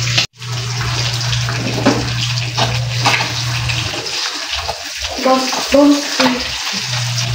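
Sizzling and crackling of food frying in hot oil, steady and close, with a low hum underneath and brief clatter.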